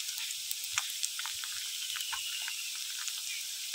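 Onion, ginger paste and turmeric sizzle steadily in hot oil in a pan, a continuous bright hiss with a few soft stirring clicks, close and fairly quiet with no talking.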